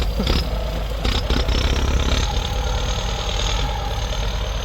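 A turbocharged 7610 tractor with an 8x4 gearbox idles close by, a steady low, knocking diesel rumble that holds level throughout.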